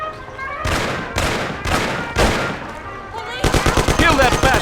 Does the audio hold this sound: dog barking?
no